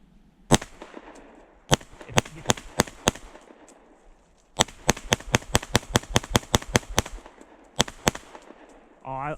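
A Kimber 2K11 Pro pistol fires a rapid string of sharp, loud shots outdoors, each crack distinct, with a brief pause before another fast volley and a short burst of talk at the end.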